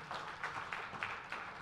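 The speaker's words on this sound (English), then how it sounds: "Give them a round of applause." Audience applause at an engineering conference, faint, steady hand clapping from a hall of people, distant and without voices.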